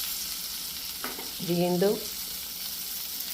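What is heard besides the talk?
fish sizzling as it fries in a pan, Kerala style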